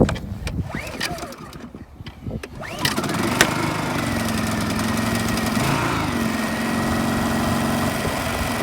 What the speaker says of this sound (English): It's going to take a couple times because I let the generator run out of gas, so it may take 5 or 6 pulls.